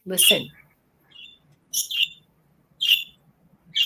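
A parrot gives several sharp, high chirps and squawks in short bursts spaced about a second apart, close and clear against silence.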